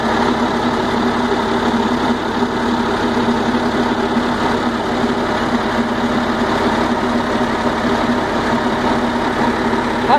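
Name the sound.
bus diesel engine idling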